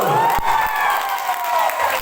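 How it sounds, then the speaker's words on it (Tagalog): A parish congregation at a healing service claps and shouts joyfully, a loud, continuous wash of cheering and applause that fills the space without a break. "Yung lahat ng tuwang-tuwa, pumalakpak at sumigaw."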